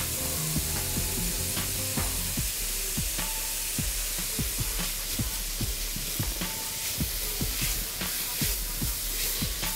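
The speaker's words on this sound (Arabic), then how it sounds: "تقليبه مع بعضه كده بشويش" Spring roll filling with cabbage sizzles steadily in a hot pan while a utensil stirs and scrapes it, giving a string of sharp clacks and scrapes over a constant frying hiss, close and moderately loud.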